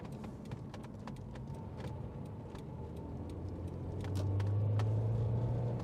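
A Honda S2000 convertible drives along a rough road in Las Vegas, its engine a steady low rumble with road noise and light rattles from the cabin, growing slightly louder and droning toward the end after a downshift into second gear.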